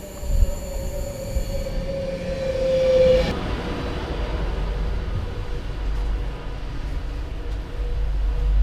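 Train ride to Crewe station, a steady rumble of wheels on rails throughout, with a long high wheel squeal or horn tone fading out in the first few seconds, then continuous rolling noise with faint clatter.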